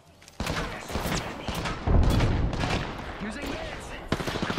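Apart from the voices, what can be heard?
gunfire in the video game Apex Legends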